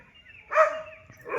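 A dog gives a single sharp bark during a fight between a pack of five dogs and two pigs, heard near and alone against quiet surroundings.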